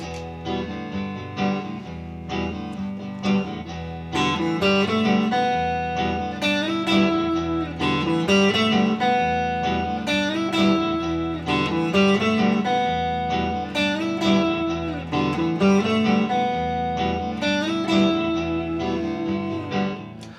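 An electric guitar riff rings out over steady strummed chords, sustained notes and slides repeating in a loose, even rhythm for about twenty seconds, with no voices.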